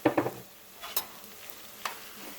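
Eggplant in tomato sauce stirred in a pan, heard as a few quick scraping strokes close by, then a couple of softer, sparser scrapes, all quiet with no voices.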